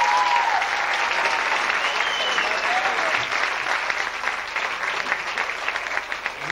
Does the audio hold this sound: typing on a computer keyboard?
no